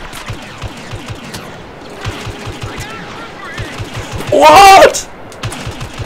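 Blaster gunfire from the Star Wars Battlefront game, rapid rhythmic shots firing in a continuous rattling stream, with a louder burst near the end and a player's brief voice over the game sound.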